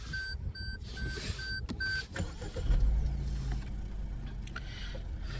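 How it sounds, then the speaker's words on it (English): Maruti Suzuki Fronx engine starting, with chimes and clicks at first, then a brief crank and low idle rumble that carries on steadily, near and moderately loud. "Let's start the car."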